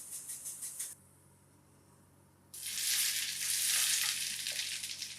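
Mustard seeds, cumin and sesame seeds crackle and hiss in hot oil for a beetroot dhokla tempering, a loud, dense sizzle that rises after a short quiet stretch, following lighter rhythmic crackles at the start.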